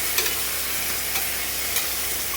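A spoon stirs fried rice with peas, cauliflower and peanuts in a hot frying pan, giving a few scraping strokes over a constant close sizzle, with no voices.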